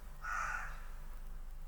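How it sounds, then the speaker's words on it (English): A crow caws once outside a window, a short clear call over a steady low hum, moderately distant and with no talk. "the fact that I find pleasure in these crows outside my window is sad"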